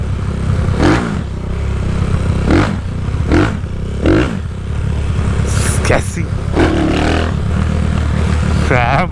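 Honda Today motorcycle's small engine revving after sitting abandoned for a year, with repeated sharp throttle blips over a rattling idle, close by while someone talks excitedly over it.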